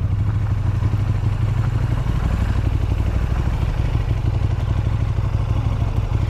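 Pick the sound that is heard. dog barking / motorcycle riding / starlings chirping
motorcycle riding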